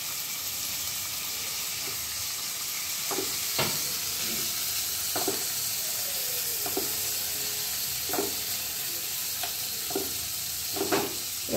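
Onion and chopped tomato frying in a kadai, a continuous soft sizzle and hiss with repeated sharp clinks and scrapes of a spatula stirring against the pan at irregular intervals.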